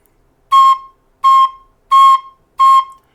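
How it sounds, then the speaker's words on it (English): Four short recorder notes from a beginner's lesson, played with a finger hole not fully covered so air leaks, each tone breathy and slightly unstable, evenly spaced and alone. "if I'm sort of covering this hole, but there's a little leak"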